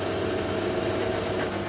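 Metal lathe spinning at 120 rpm with a machine pin squared up to the chuck face, giving a steady, continuous mechanical hum with faint rattling and no talk.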